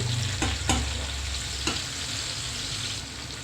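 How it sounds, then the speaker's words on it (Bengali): Pieces of hilsa fish fry in hot oil in a pan and are flipped, making a continuous close sizzle broken by a few sharp utensil clicks and scrapes. "মাছ ভাজা এক পাশটা হয়ে গেছে আমি আরেক পাশটা উল্টিয়ে দিচ্ছি"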